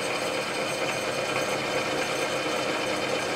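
A used 12 x 36 inch Clausing engine lathe, model 5914, runs with its power cross feed engaged, giving a steady, dense mechanical whir and hum without pauses.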